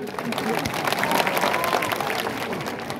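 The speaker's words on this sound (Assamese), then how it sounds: "যে হাত চাপৰি ইমান লাহে কিয় কৰিছে?" A large open-air crowd at a political rally on a college field claps in a dense, continuous wash of applause, a chief minister's speech going on amid it.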